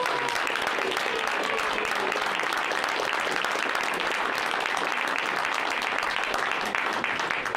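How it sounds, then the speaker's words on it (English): Sustained applause from an audience at a borough council meeting, dense steady clapping filling the room at moderate loudness for several seconds without pause. "One last round of applause."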